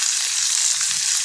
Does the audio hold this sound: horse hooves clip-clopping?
no